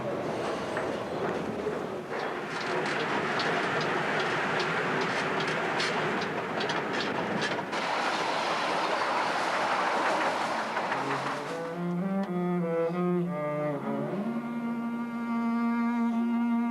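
A Paris metro train runs loud and steady with rattling, clattering wheel noise for about twelve seconds, then gives way to sustained tonal sounds.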